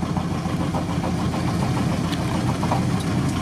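A Volkswagen Transporter T3 engine runs with its rear engine cover off, a steady, loud mechanical drone with a rough, rattly texture and no talk.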